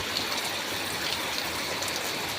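Heavy rain pours steadily while water rushes through a drain ditch beside a house, a dense, even hiss of downpour and flowing water with no pauses or voices.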